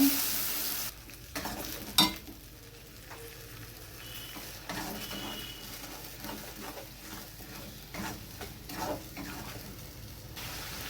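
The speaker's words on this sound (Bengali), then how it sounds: "মশলাটা আমি একটু কষিয়ে নেব" Spice paste for a prawn and cauliflower curry sizzles steadily in a pan, with scraping stirs and a few sharper clatters of the spoon against the pan throughout.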